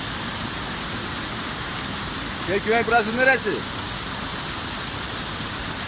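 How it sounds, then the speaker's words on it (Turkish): The Günpınar waterfall near Darende in Malatya pours with a steady, even rush of falling water. A man briefly asks a question over it midway through. "Günpınar şelalesi."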